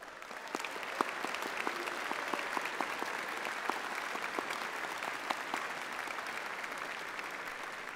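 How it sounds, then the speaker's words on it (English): Audience applause at a university graduation ceremony, a steady wash of many hands clapping heard from a distance in a large hall, lasting throughout without pause. "Another round of applause"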